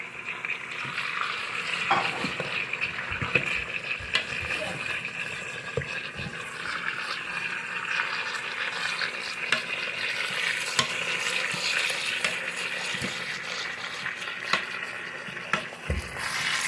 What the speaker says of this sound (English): So I'm letting the pork sear